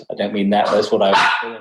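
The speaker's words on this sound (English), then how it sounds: "That's the dog." A dog barks close by and overlaps with a person talking, the barks blending into the speech for a second or two.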